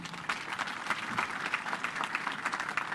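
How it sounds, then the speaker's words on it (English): Applause at a Kenya Defence Forces celebration, a crowd clapping steadily at a moderate distance, dense and fairly even, without speech over it. "let's recognize him for another round of applause"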